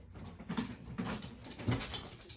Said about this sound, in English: My dog is at the door crying.